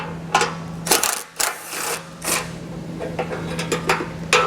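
A socket wrench with a 14mm socket and an extension ratchets out bumper beam fasteners on a 2021 Subaru, giving quick bursts of clicking separated by short pauses over a steady low hum.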